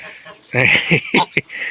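A goose calls near a yard in a short run of honking, nasal cries, with a brief sharper note at the end and no talk over it.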